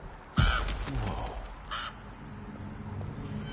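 A crow in the Alone in the Dark game caws twice, loud and close, the first harsh call near the start and a second about a second and a half later, over a low ambient background.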